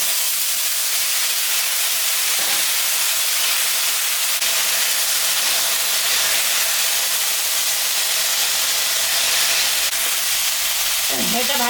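Vegetables dropped into hot oil over leftover fish-frying oil with dried red chili, bay leaf and cumin seeds, giving a steady close sizzle and hiss with light stirring, no talk.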